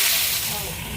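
Cooking oil heats in a pan, giving off a brief, steady, close hiss and sizzle that fades slightly over a single second.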